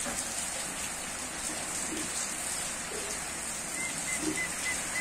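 Steady rain with hail pours down in an even, continuous hiss, close and fairly loud, with no voices.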